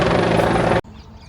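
The heavy, rhythmic whir of a nearby helicopter roars loudly for under a second, then cuts off abruptly to near quiet.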